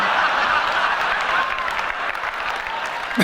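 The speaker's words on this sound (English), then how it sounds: "They are clapping for nothing." An audience claps and cheers at the original iPhone reveal, a dense continuous wash of applause from a large crowd at close range, steady for the few seconds heard with a bit of murmuring mixed in.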